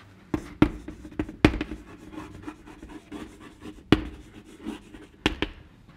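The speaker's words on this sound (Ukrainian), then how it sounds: "І запишемо відповідь." Pen writing an answer by hand on paper at a desk during a maths lesson, a soft steady scratching with several sharp taps and clicks scattered through, close and fairly quiet with no talking.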